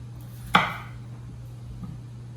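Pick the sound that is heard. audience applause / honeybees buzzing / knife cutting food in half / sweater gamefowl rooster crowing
knife cutting food in half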